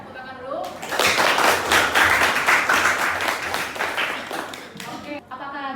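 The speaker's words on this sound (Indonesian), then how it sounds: "Jawabannya ya, tepuk tangan dulu." A physics class claps for a correct answer about elasticity. Loud, brisk group clapping starts after a brief voice, runs about four seconds and stops abruptly, with speech heard at both ends.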